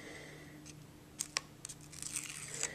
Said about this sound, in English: You want to go ahead and peel those off, backing off the tape